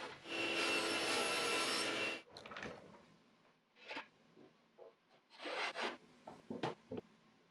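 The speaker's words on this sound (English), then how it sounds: "So I cut the bottom down to the final size." Wooden drawer bottom being sawn down to final size for an under-workbench drawer: a loud, steady two-second rasp of cutting, then a string of lighter scrapes, knocks and handling noises of the board.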